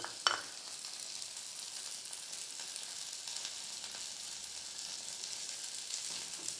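Peanuts, garlic and tamarind sauté in a pan for a peanut chutney, giving a soft, continuous sizzle. There is a light knock of a spoon at the start, the sound stays fairly quiet and close, and no one speaks.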